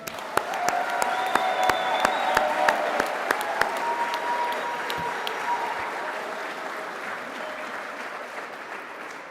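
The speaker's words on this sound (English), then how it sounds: "One more round of applause." Audience applause at a registered nursing commencement at Central Lakes College, a long sustained round of clapping with distinct sharp claps up close and some voices murmuring, gradually tapering toward the end.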